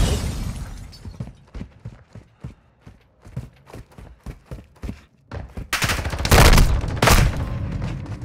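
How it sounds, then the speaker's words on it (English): A shotgun fires in Modern Warfare 2, a string of sharp, evenly spaced blasts, near and punchy, swelling into a louder cluster of crashing shots near the end. "I'm gonna try this gun. It's a shotgun."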